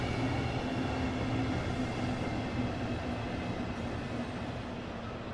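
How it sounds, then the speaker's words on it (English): A Southeastern train rumbles in Train Sim World 2 on the Faversham to London route, a steady low mechanical drone with a faint hum, fading slightly toward the end, with no speech. "So where's our train coming?"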